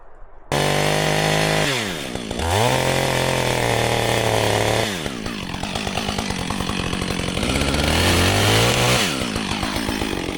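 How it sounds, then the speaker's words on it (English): A small portable winch engine starts with a sharp rev and keeps running up close, its pitch rising and falling as it warms up, rough and buzzing much like a chainsaw. "And we'll fire it up, and then we'll get the winch around there,"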